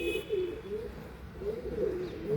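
Tenali breed pigeons cooing in repeated soft rolling calls, a few close coos rising and falling in a steady rhythm, fairly quiet with no talk.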